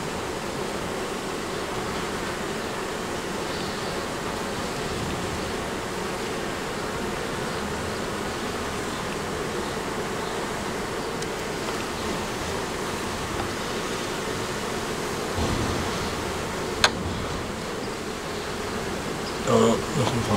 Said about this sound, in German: Noch ein paar Bienen.